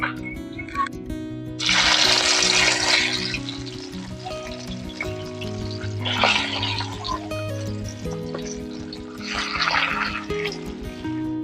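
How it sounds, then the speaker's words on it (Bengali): Small punti fish frying in hot oil, a steady crackling sizzle that swells in three loud bursts as more fish go into the pan, with a low background hum throughout and no talk. "আমি আরেকবার বাকি মাছগুলো দিয়ে ভেজে নিব"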